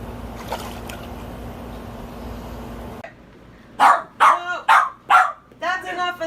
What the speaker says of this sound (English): Enough of that barking.